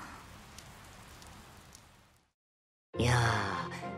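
Rain falls as a game sound effect in Fire Emblem: Three Houses, a soft, even patter that cuts to silence, then a sharp breathy voice breaks in loudly near the end.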